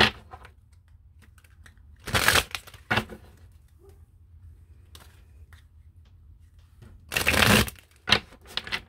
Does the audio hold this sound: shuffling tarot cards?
yes